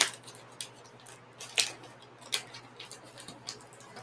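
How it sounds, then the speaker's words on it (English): Dull scissors cutting open sealed plastic packaging, a few sharp snipping crunches spaced irregularly over a quiet background, close and clear with no talking. "I just have this dull pair of scissors."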